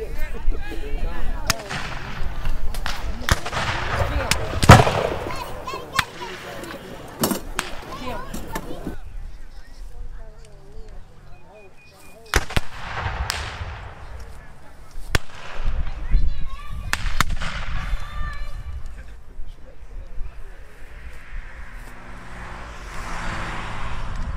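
Black-powder gunfire volleys crack out repeatedly at a Civil War reenactment of General Hardee's retreat, loud sharp reports in bursts with echoes between them, while shouted commands and talk carry over the field.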